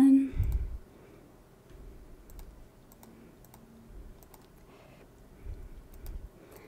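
Mouse and keyboard clicks at a computer running Illustrator, sparse, faint, sharp ticks scattered over a quiet room with low rumbles and a few soft thumps.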